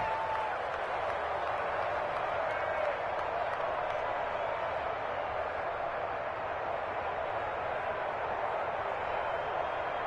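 A stadium crowd in an American football video game cheering before a third down, a steady, dense roar with clapping mixed in, heard at a distance and held level throughout, while a voice talks faintly underneath.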